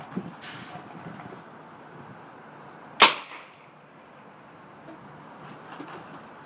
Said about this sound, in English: let's get a couple sound bites of the Tippmann Project salvo with and without my homemade suppressor